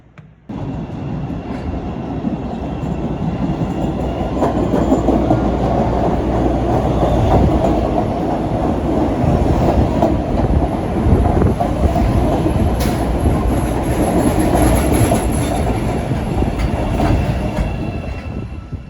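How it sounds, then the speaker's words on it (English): A Chicago L elevated train rumbles in loudly with steady roaring wheel noise and faint metallic squeals, continuous throughout with no voices. "Apparently the train coming in had been delayed"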